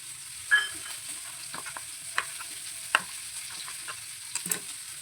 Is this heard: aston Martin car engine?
no